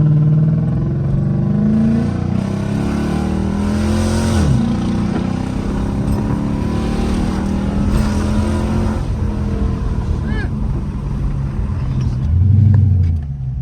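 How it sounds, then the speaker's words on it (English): A Dodge Hemi car fitted with a Windbooster throttle controller rumbles close by, its engine rising and falling through repeated revs and acceleration pulls. The loud low drone runs throughout with no speech. "His AC is on and his car is still pulling."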